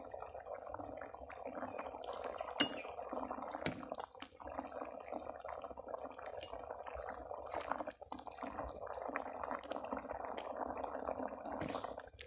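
Curry being ladled from a pot, a steady close wet sloshing and gurgling with dripping and scraping of the ladle, continuous and moderately soft throughout.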